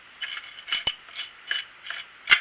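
A Magnavox Micromatic record changer mechanism cycles through its motion, giving a run of soft mechanical clicks, ratcheting and gear whirs in rhythmic bursts, close and fairly quiet, with a sharper clack near the end.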